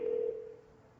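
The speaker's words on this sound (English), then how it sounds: "Ringing." A single tone of a phone call ringing back, steady for about half a second and then decaying, fairly faint.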